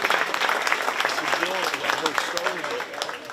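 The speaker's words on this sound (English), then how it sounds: "let's give all of our exhibitors in our middleweight market crossbred barrels a nice round of applause" Crowd at a 4-H swine show at the Shelby County Fair applauding exhibitors of middleweight market crossbred barrows: soft, distant clapping spread through the arena, with a voice talking over it throughout.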